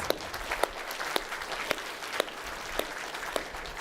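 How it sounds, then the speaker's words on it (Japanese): Applause from a public speaking workshop audience in Japan, a dense steady wash of many hands with a few sharper individual claps standing out at regular intervals, moderately distant and fairly quiet. "big round of applause for you guys."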